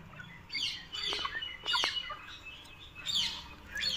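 Silkie chickens on a farm give short, faint clucks and chirpy calls in quick irregular bursts over a quiet background.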